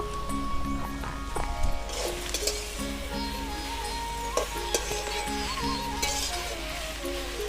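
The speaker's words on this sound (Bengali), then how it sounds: "দিয়ে দেবো কাঁচা লঙ্কা চেরা দিয়ে নেড়ে চেড়ে দেবো" Slit green chilies and greens are stirred in a frying pan with a soft sizzle and scattered spoon clinks against the metal. Background music plays over them, and there is no talking.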